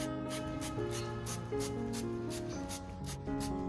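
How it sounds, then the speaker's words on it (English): Repeated quick spritzes from a spray bottle misting nutrient solution onto orchid leaves hiss in a steady rhythm, close by, over a soft background of sustained music. "I spray the nutrient solution directly onto the orchid leaves to keep them moist."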